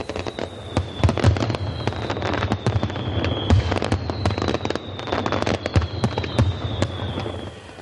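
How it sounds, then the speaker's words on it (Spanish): Fireworks display at the San Fermín festival in Pamplona, 2007, a mix of classic and modern styles: dense, rapid volleys of loud cracks and bangs over a continuous crackling rumble, with rising whistles streaking across. "Con una colección de fuegos artificiales, mezcla de estilo clásico y moderno"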